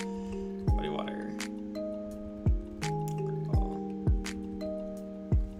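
Muddy Water attack sounds from the Pokémon Fire Red Omega game during a hardcore Nuzlocke battle: sustained droning tones with repeated thudding, dripping hits at a steady rhythm, moderately loud and without talk.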